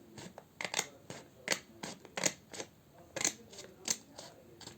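Close scissors snip repeatedly, with about a dozen crisp, irregular metallic cuts heard alone in a quiet room.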